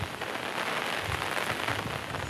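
Heavy monsoon rain pours down steadily, a dense and continuous hiss of water drumming on surfaces with no voices over it.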